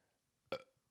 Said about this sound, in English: That was a burp, not a cough.